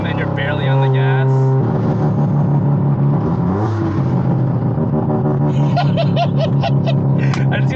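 A 460 hp Mazda RX-7 engine revs at high RPM with a loud, buzzy drone whose pitch shifts up and down during driving, while people talk and laugh over it.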